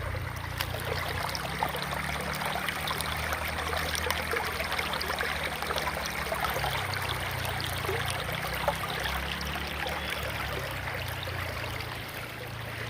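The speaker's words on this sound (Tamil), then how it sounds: "இந்த தண்ணி ஒழுகிற சவுண்டு சூப்பராக இருக்குது கேட்குது" Water rushes and splashes steadily in a stream, a continuous bright hiss with a low rumble underneath, close by and unbroken throughout.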